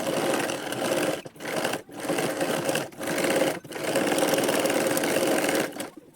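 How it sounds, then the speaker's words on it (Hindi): A sewing machine stitches a blouse lining in close, steady bursts, with four or five short pauses between runs and no talking. "तो चलिए मैं इसकी सिलाई लगा के दिखाती हूँ।"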